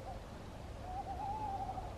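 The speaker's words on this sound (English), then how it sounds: "The owl is just up there." A single owl hoot from overhead, a clear slightly quavering tone holding for about a second over quiet outdoor background hiss, with no talking.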